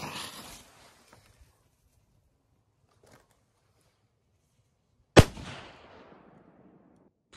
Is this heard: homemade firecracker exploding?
yes